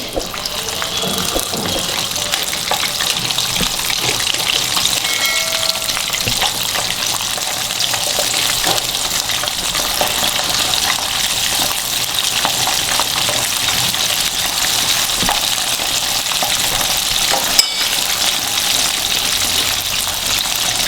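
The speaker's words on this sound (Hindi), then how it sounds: "तो पहले पीस मैंने फ्राई किए थे वो दोबारा डालेंगे इसके अंदर।" Fish pieces deep-frying a second time in hot oil: a loud, dense, continuous bubbling sizzle held close for about twenty seconds, with a single sharp clink near the end and no voices.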